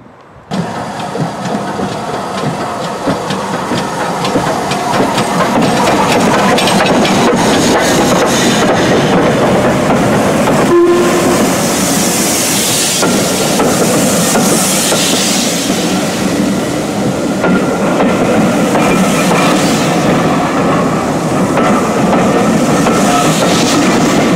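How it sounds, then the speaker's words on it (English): A steam locomotive rushes through a station on the Gloucestershire Warwickshire Railway during a winter steam gala: a loud, sustained roar of engine and rolling wagons with rhythmic clatter and a brief whistle-like tone midway, steady and close throughout. "as soon as it flies through, go on the platform to feel it coming in and board the train"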